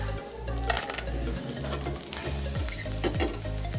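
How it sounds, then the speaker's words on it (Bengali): Cashews and whole raisins fry in oil along with grated coconut, a loud, busy sizzle with repeated scraping strokes of a stirring spoon against the pan throughout. "এখানে কাজু কিশমিশটা দেওয়া হয়ে গেল, এটা ফ্রাই করে নিচ্ছি"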